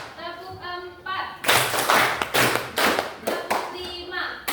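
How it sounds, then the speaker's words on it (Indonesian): Children in an Indonesian junior high school classroom clap their hands in counted bursts on instruction, sharp rhythmic claps in groups, with a voice calling the counts and kids talking between rounds. "Tepuk 1, tepuk 2, tepuk 3, tepuk 4,"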